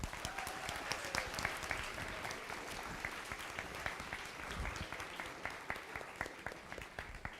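Audience applause after a thank-you to sponsors at a First Tech Challenge PowerPlay robotics league tournament, a steady wash of many hands clapping at moderate volume that keeps going without letting up.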